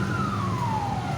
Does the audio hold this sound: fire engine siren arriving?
yes